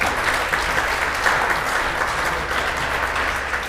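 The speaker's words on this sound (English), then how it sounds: "That deserves applause, I think." Steady, dense applause from a live-stream audience fills the whole stretch at an even, sustained level with no voices over it.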